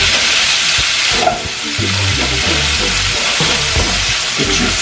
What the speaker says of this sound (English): let me mix this up real quick